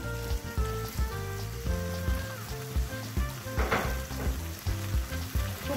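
Prawns frying in roasted ground Chettinad masala are stirred in a hot pan. A continuous loud sizzle runs throughout, with the spoon's repeated scraping strokes just beneath it.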